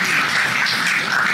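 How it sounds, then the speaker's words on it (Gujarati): Brief burst of audience applause at a talk about a unique house museum, a dense wash of many hands clapping together, short and fairly even throughout. "એમની પણ તાળીઓ."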